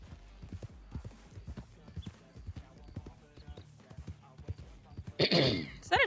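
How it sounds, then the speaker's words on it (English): A donkey's hooves clip-clop at a walking pace in the RedM video game, a steady run of close, distinct hoof strikes, followed near the end by a brief loud animal call over light background talk. "Is that a donkey? That is a donkey."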